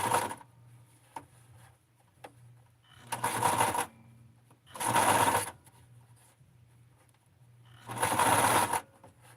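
A sewing machine stitches Blythe Skipper doll clothes in three loud, steady bursts of a few seconds each, separated by quiet pauses filled with a faint low hum and small handling clicks.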